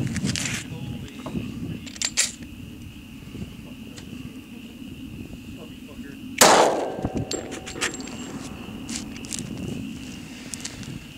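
A single .40 S&W round, a PPU 180-grain jacketed hollow point, is fired into ballistic gel: one sharp, loud crack partway through, with a brief ringing tail over steady background noise.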